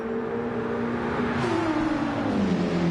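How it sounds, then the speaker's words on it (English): A Porsche race car at the Nürburgring 24 Hour drives under load with a steady engine drone and high, sliding tonal squeals from the tyres, loud and continuous without pause. "So we can see the Porsche getting a little bit of air there. And sounding all a bit squealy on them tyres."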